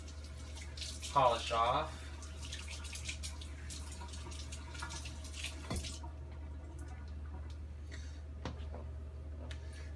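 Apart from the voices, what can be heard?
tap water rinsing a 1095 carbon steel knife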